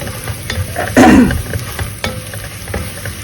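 Powdered cumin, coriander, chilli and turmeric fry with onions in a pan, giving a steady sizzle, a loud burst of spitting hiss near the start as something is stirred in, and light scraping afterward.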